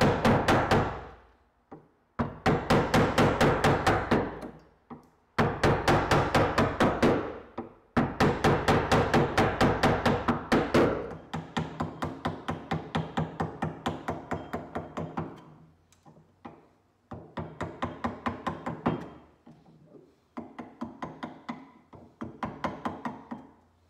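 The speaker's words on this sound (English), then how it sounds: "chisel this out." Wood being chiseled out to make an oar lock, heard as a long run of close, steady, rhythmic knocks and taps, grouped into bursts with brief pauses between them.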